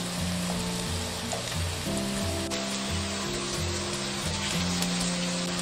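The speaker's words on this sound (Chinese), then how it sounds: "就一定要把这个红薯给它煎透、煎熟。" Sweet potato strips pan-fry over low heat, giving a steady close sizzle and crackle under tonal background music throughout.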